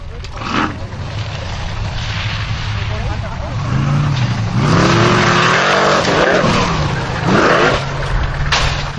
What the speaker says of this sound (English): That is one of the most spectacular rolls ever in Formula Offroad.